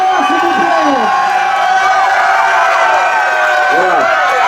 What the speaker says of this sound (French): Un tonnerre d'applaudissements pour cet équipage.